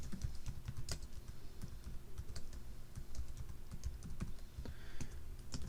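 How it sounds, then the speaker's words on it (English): Rapid, steady keystrokes on a computer keyboard while sample text is entered into a Word business document, close and clear with no talking. "Let's type in some sample text here."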